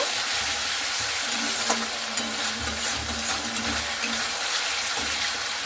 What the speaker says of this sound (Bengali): তো টমেটো কাটাটাকে দিয়ে একটু ভালো মতো করে আবারও নাড়াচাড়া করে নেব